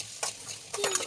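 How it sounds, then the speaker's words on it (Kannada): Sliced okra stirred in hot oil in a pan: a quiet, soft sizzle broken by two brief scraping strokes of a utensil against the pan. "ಅಷ್ಟೇ ಎಣ್ಣೆಯನ್ನು ಹಾಕಿಕೊಂಡು ಅದಕ್ಕೆ ಬೆಂಡೆಕಾಯಿಯನ್ನು ಕಟ್ ಮಾಡಿಕೊಂಡಿರೋ ಬೆಂಡೆಕಾಯಿಯನ್ನು ಹಾಕಿಕೊಳ್ಳುತ್ತಿದ್ದೇನೆ"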